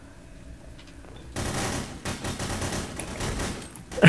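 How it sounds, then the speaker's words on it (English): Rapid gunfire from the video game Hidden: Source crackles in a dense burst lasting a couple of seconds, moderately loud, after a quiet start. "I shot the guy next to me"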